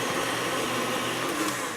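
An electric mixer beats dumpling batter in a bowl with a steady, dense whirring drone that holds at an even level throughout, with no talking.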